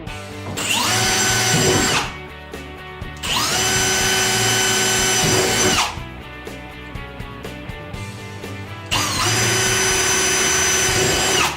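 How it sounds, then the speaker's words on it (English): A power drill bores holes at pre-marked spots on an Otter Outdoors XT Crossover ice fishing shelter sled, running in three sustained, loud bursts separated by short pauses, with no talking. "find the locations of the pre-markings, and we're going to drill those."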